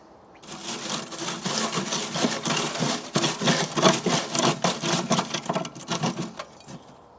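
Large chunks of well-seasoned Australian gum wood set down onto charcoal in a ceramic Kamado grill, heard as a run of close, dense scraping, rubbing and clattering knocks that fade out toward the end.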